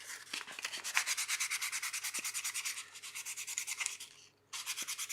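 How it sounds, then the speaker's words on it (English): A wooden box's top edge gets light hand sanding, a steady back-and-forth rasp in even strokes that pauses briefly near the end, then resumes. "Better give it a light sand first."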